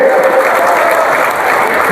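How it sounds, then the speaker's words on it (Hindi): A large crowd at a political rally in Buxar with Amit Shah applauds loudly and continuously, a dense, steady wash of clapping that fills the whole stretch. "ताली बजाओ"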